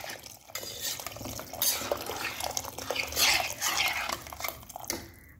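Hot water is poured into a pot of Bengali tomato rice, giving a close, uneven splashing and trickling with soft utensil and pot clatter, rising and falling over several seconds.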